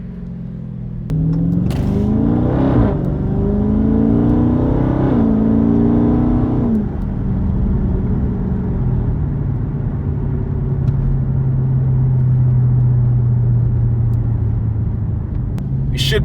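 A car with its mid-muffler deleted, heard from inside while driving: a loud, raspy exhaust roar rises as the engine revs hard, then settles into a steady droning cruise.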